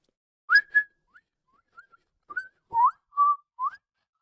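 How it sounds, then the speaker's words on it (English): A video game character whistles in place of voice lines, giving a series of short, clear, rising and falling chirpy whistles spaced apart in near silence. "She has no voice lines and just whistles"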